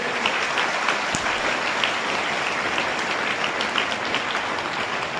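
A crowd applauds steadily, a dense, even wash of clapping that continues throughout without pause.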